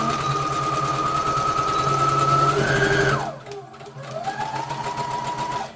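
Sewing machine running continuous stitches on a fabric Christmas tree, its motor whirring at an even pitch, then briefly stopping and starting again for the back-and-forth reinforcing stitches.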